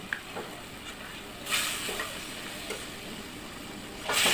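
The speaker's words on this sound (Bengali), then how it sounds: "একটুখানি মিশিয়ে নিয়ে এবার আমি এর মধ্যে যে ভেজে রাখা আলুগুলো সেগুলো দিয়ে দেব।" Fried potatoes are stirred into a rohu fish curry in a pan, producing a quiet, close sizzle with a few soft scrapes and knocks of the spoon, no voices over it.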